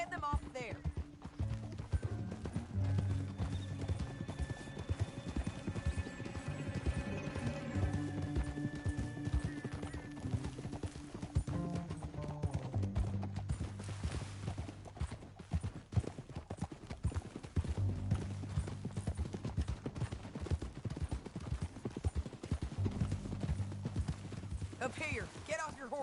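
Rhythmic clip-clop of horse hooves trotting steadily throughout in Red Dead Redemption 2, with voices talking over them and a brief whinny partway through.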